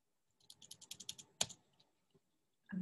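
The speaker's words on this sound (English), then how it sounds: "typing again here" Typing on a computer keyboard indoors during a Chinese-language lesson, with a quick run of close, crisp key clicks, a louder single tap, then a pause before another sound starts.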